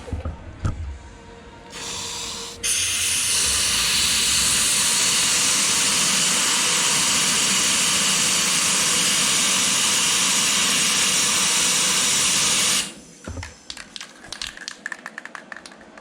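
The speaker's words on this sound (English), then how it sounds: "getting an air hose and doing the old spray and jetting it further up the sill." Compressed-air hose blasting into the sill of a Volkswagen Beetle during rust repair, a loud, sustained hiss lasting about ten seconds after a short initial burst, then cutting off abruptly into quiet clattering.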